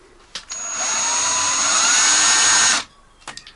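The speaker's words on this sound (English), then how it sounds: "So I'm just drilling holes." A power drill bores holes into the ceiling of a VW Crafter van conversion, a steady high-pitched whine held for about two seconds with brief clicks and handling noises before and after.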